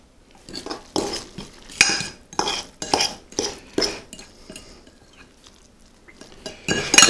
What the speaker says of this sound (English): Get your salsa and your tuna all mixed throughout the rice.